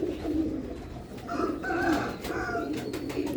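A pigeon from a breeding pair gives several low, throaty coos in short phrases, close and moderately loud, with faint background clatter and no talking.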